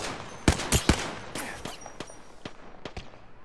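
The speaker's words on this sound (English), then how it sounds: "I am taking fire. I am taking fire, friends." Gunfire in Apex Legends rattles out in rapid, sharp bursts, a cluster of loud shots early followed by scattered, fainter cracks, close and dry.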